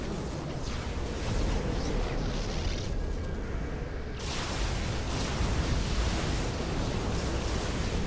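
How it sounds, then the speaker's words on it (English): Protoss Mothership and Phoenix weapons firing in StarCraft II, a steady roaring wash of rapid energy blasts and rumbling explosions that runs unbroken and loud with no talk. "Just going to be seeing our Mothership firing."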